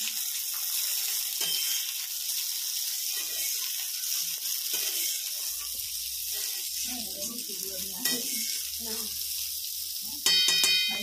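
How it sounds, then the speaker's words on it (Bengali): Peas and potatoes fry in a pan while a spatula stirs them, a constant sizzle overlaid with scraping strokes and clatter, and a sharp metallic rattle near the end. "এইবার আমাদেরকে খুন্তি নিয়ে নাড়াতে হবে।"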